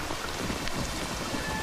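Steady rain falls in a broad, even hiss with scattered drop patter on surfaces, continuous and fairly close, with no voices over it.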